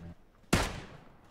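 A single sharp gunshot from PlayerUnknown's Battlegrounds, close and loud with a quick decaying tail, after a brief murmur.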